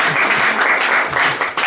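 A church congregation applauds loudly and continuously during a healing and faith service, a dense crowd clapping that barely dips for nearly two seconds.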